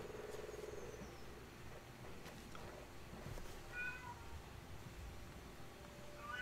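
A house cat meows faintly a few times in a quiet room, soft high-pitched cries over a low steady background hum.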